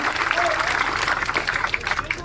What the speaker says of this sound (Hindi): जोरदार तालियां एक बार सरपंच जी के लिए, जोरदार तालियां।